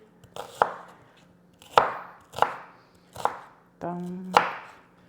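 Knife slicing red onion into rounds on a cutting board, five distinct close chops at an uneven pace, each a crisp thud with a short crunch, over a faint hum.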